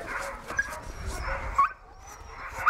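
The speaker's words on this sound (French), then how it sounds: "les chiens se préparent à continuer leur course pour rentrer au chalet Rusty 2" Sled dogs bark and whimper at a chalet before continuing their run, with excited yips and whines overlapping one another at close range.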